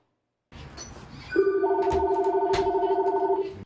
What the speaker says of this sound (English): Every 30 seconds the phone rings.